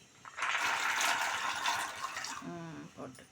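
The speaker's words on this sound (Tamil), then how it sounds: "ரெண்டு சொம்பு தண்ணி இதில் ஊற்றுறோம் நம்ம." Water is poured from a vessel into a cooking pot for a Tamil-style soup or pongal, a steady broadband rush lasting a couple of seconds, followed by brief speech.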